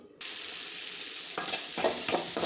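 Onions hit hot oil in a pan and break into a loud, steady sizzle, with a few stirring scrapes near the end.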